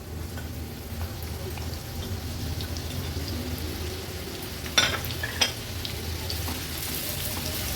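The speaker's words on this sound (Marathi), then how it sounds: "आता फोडणीला आपण हा मीडियम साईजचा एक कांदा घेतलाय" A medium-sized onion goes into hot oil for tempering in a spicy Agri-Koli style prawn thecha, making a soft, steady sizzle with a couple of sharp utensil clinks midway, close and fairly quiet.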